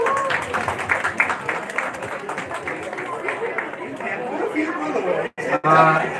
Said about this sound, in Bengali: অর্জুনের জোরে হাত তালি এভরিবাডি প্লিজ